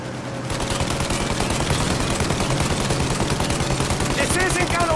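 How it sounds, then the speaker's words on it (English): Sustained rapid gunfire from the video game Mafia: Definitive Edition, aimed at the engines of a plane, rattling loud and continuous throughout with bursts overlapping. "Shoot out the engines!"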